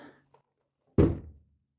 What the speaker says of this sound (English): And then we'll try closing the door again and see if it fits any better.